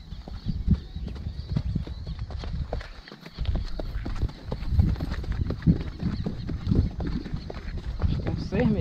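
Steady clip-clop of hooves as a horse walks at an even rhythm in a smooth gaited walk (caminhadeira), close by, with people talking over it.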